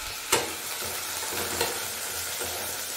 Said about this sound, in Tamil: 2 நிமிஷம் இந்த எண்ணெயில் நல்லா வதக்கிக்கோங்க.